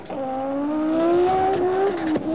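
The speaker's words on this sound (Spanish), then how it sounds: "Audi Quattro Sport and official works representative Walter Röhrl." An Audi Quattro Sport Group B rally car drives by, its engine note rising steadily as it accelerates, close and loud, before a quick lift-off near the end.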